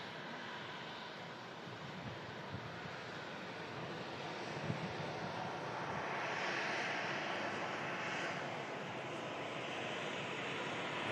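A Ryanair airliner comes in to land, its engine noise a steady, faint distant rumble that swells slightly in the second half, with no voices.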